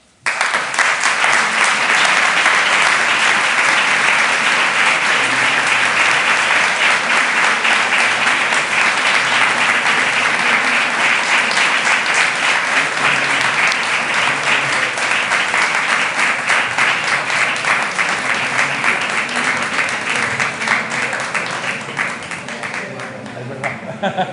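Sustained, loud audience applause fills a lecture hall at the end of a conference talk on the sculptor Pietro Torrigiano, dense steady clapping that holds for over twenty seconds before tapering slightly.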